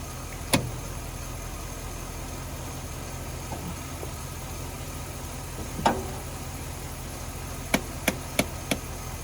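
An old Ford F350 truck engine, abandoned for 22 years, runs with a steady low rumble, broken by a few sharp clicks and taps, including a quick cluster near the end.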